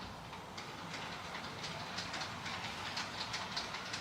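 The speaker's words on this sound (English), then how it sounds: "now you can see the train backing into its storage area" An On30 scale model train reverses slowly along its track into a storage siding, a faint, steady rolling rumble with light clicking wheel beats and no talking.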